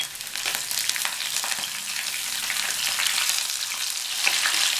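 Slit green chillies, finely chopped ginger and about ten cashews sauté in a pan for semiya kichidi, making a steady, loud, close hiss and crackle of frying oil that runs throughout with no voices.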